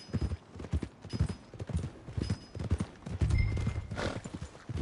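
Horse hooves clip-clopping at a steady walk on a path in the Red Dead Redemption 2 video game, a close and even rhythm of hoofbeats, with a soft snort and some ambient game sound.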